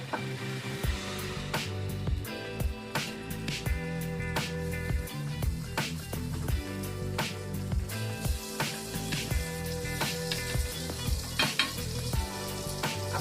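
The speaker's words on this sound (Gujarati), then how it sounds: "થોડું બટર નાખશું. બટર મેલ્ટ થાય" Butter melts on a flat tawa pan for pav bhaji, giving a continuous close sizzle broken by regular scraping strokes of a spatula.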